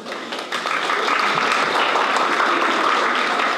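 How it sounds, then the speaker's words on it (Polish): An audience applauds at the opening of an exhibition of 1980s Czechoslovak photography. The dense, even clapping swells in after a brief softer start and stays full and close to the end. "Prosimy o brawa."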